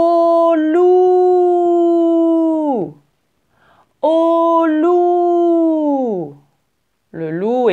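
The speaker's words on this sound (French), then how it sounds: "Le loup est un animal très dangereux pour les moutons." A wolf howls in two long, loud, steady-pitched cries that each fall off at the end, with a shorter wavering howl starting after a pause.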